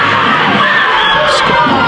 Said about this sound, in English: Scoil crowd are really hyped up now due to the current attacks of their team